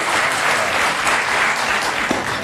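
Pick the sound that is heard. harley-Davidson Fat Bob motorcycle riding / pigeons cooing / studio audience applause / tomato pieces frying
studio audience applause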